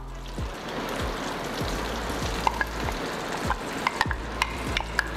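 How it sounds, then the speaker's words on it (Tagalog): Chicken stock is added to a hot pan of chicken and marinade, bubbling and sizzling under repeated stirring. Scraping strokes and sharp clicks of a utensil against the pan sound close and rhythmic. "And we'll put in our chicken stock."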